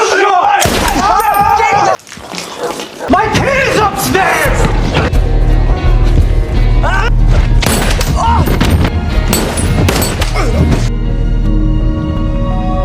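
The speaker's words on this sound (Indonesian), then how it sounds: "terjadi baku tembak sangat sengit" Loud gunshots ring out in sharp bursts during a tense exchange, with someone shouting urgently between the blasts over a low rumbling background.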